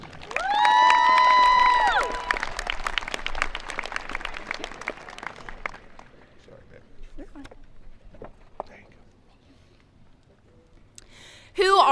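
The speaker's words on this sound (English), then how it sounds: "Please give a round of applause for Caitlin Bober." A commencement crowd at Lawrence County CTC's 2022 graduation cheers and applauds the class valedictorian, a loud burst of shouts and whistles that fades into scattered clapping, with voices rising again at the end.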